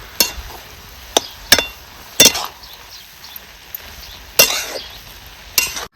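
Beetroot halwa being stirred in a kadhai, heard as a handful of sharp, sudden scrapes and knocks of a spoon against the pan spaced a second or so apart over a quiet, faintly hissing background.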